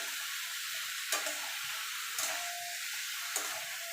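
Bottle gourd curry (lau ghonto) being stirred in a pan, a steady sizzle with three distinct scraping stirs of the spoon about a second apart, close and alone.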